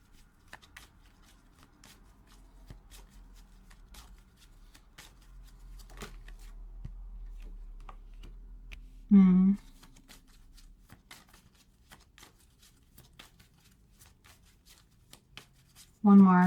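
Tarot cards riffle and flick in two short, close, crisp shuffling bursts, separated by long stretches of soft handling and someone speaking.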